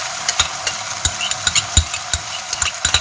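Tomato paste frying in a pan for Iranian gheimeh stew, with a steady sizzle under frequent sharp spoon scrapes and knocks against the pan as it is stirred, close and fairly loud.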